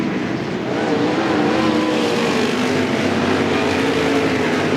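Sprint cars racing at Willamette Speedway, a dirt oval, their engines blending into a loud, continuous roar with a wavering pitch as the pack circles the track.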